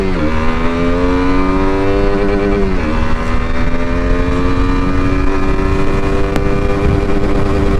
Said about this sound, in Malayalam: ഞാൻ ഇപ്പോൾ ഈ ഒരു റോഡിൽ കട്ട് ഓഫ് അടിച്ച് പോകുന്നത് കേട്ടോ